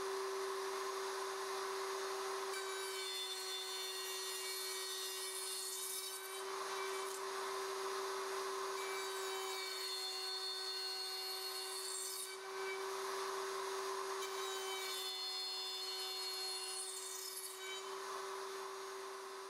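A router cutting box (finger) joints in wood on a Leigh RTJ400 jig, a steady loud motor whine throughout with recurring rising and falling cutting passes as the bit moves along the board, no talking.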